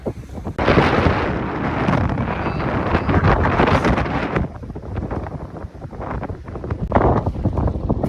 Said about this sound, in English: It's quite blowy, as you can probably hear.